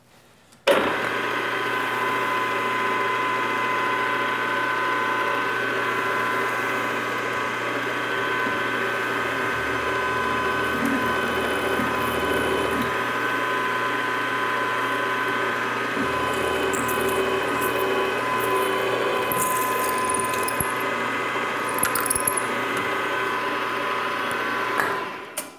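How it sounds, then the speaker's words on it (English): A drill bit is pushed all the way through a C110 copper workpiece on a lathe, a steady machining whir with motor hum and metallic scraping that runs evenly for about 25 seconds with no talking. "Then we will push the S drill all the way through."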